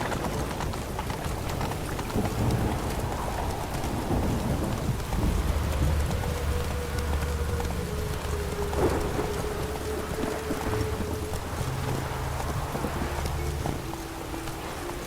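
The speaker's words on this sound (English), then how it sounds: "Must be mad running around in this rain." Rain pours steadily in The Witcher 3 with rolling thunder and horse hooves clip-clopping through the storm. The wash of rain is continuous and fairly loud throughout.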